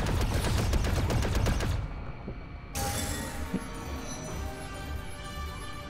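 Rapid blaster fire from a Lego Star Wars: The Skywalker Saga shootout rattles off in dense repeated bursts for the first two seconds, then gives way to quieter game ambience and scattered effects.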